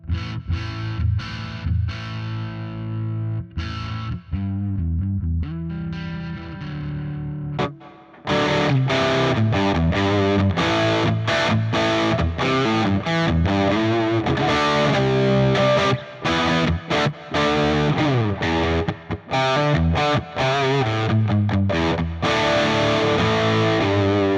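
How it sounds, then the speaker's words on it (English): Crunchy distorted electric guitar, a Gibson Les Paul Standard through a crunch amp model, plays chords and riffs, starting with sparser strums, then settling into a loud, dense rhythmic part with no voices. "I have here my Gibson Les Paul standard"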